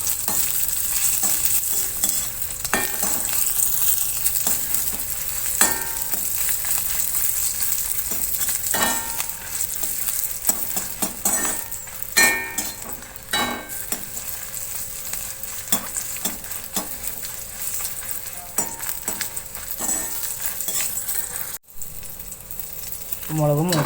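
Green chilies sizzle in hot oil in a pan, a steady frying crackle broken by repeated scraping strokes of a stirring spoon at an uneven rhythm, close and fairly loud.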